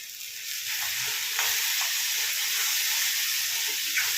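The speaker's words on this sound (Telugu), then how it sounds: "ఒక టీ స్పూన్ అల్లం వెల్లుల్లి పేస్ట్ వేసుకుందాం." Ginger garlic paste sizzles in a pan of onion and raw mango curry, a soft, steady frying hiss with faint crackles, fairly quiet and alone.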